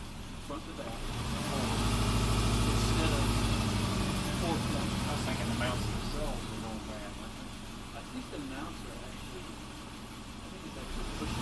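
A Subaru engine with a high idle fault runs steadily nearby, with a low droning hum that rises and then settles slightly, while a person talks over it.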